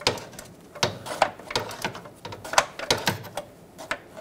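A ratchet works an O2 sensor socket on a Dodge Grand Caravan during rear catalytic converter replacement, giving a series of sharp irregular clicks and clacks, close and moderately loud, with no talking.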